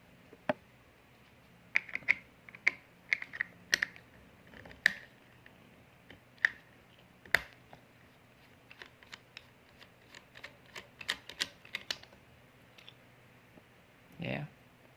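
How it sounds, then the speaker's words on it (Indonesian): Phillips screws are undone on a Faema espresso machine with a screwdriver, giving scattered sharp close clicks and small metallic ticks at irregular intervals against a quiet background. "Kita buka dulu, di sini ada baut plusnya,"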